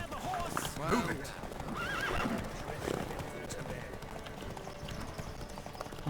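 Horses in a race in the video game The Witcher 3 clop along with a whinny, under voices calling out and background music.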